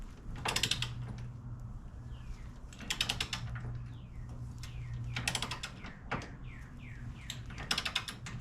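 A wrench ratchets in several short clicking bursts while tightening a body mount bolt on a Ford Bronco, close up, with faint squeaks and a low steady hum in the background.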